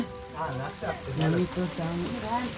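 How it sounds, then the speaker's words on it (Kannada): Rain falls steadily as a soft, even hiss on surfaces nearby, running under several people talking loudly throughout. "ಏಯ್ ಮಳೆಯಲ್ಲಿ ಯಾರು ನೆನಿಬೇಡಿ"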